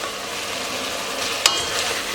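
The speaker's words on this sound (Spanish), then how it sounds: "A fuego alto, la voy removiendo para que se vaya dorando sin quemarse." Prawn heads and shells fry and are stirred in a pan over high heat, giving a steady close sizzle with a brief sharp scrape partway through, no voices.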